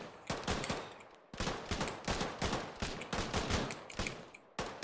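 Tracer rounds fired in a military video game, with rapid loud automatic bursts in several repeated volleys separated by short pauses and no talking.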